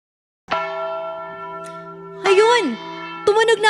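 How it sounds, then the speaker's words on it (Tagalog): A church-like bell strikes several times, each clang ringing with long sustained overtones, while voices and singing-like tones rise over it. "Tumunog na ang bell!"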